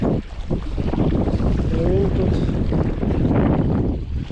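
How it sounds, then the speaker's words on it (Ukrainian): Strong wind at a spring fishing spot in Hamaliivka, blowing steadily and roughly across the microphone for the whole stretch, with a brief spoken remark over the rumble. "Тільки тут ситуація така собі на рахунок вітру"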